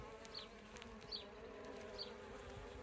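Faint, steady buzzing of honey bees droning continuously at a small hive in a Welsh garden, a few insects passing closer now and then, no talking.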